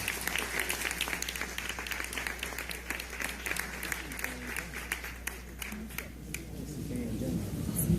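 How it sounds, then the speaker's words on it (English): A crowd at a panel event applauds steadily throughout, a dense wash of many hands clapping at moderate distance, swelling slightly toward the end. "Give her a round of applause."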